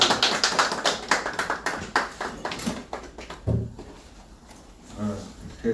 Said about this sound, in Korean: 우리 가볍게 박수로 맞이해주십시오.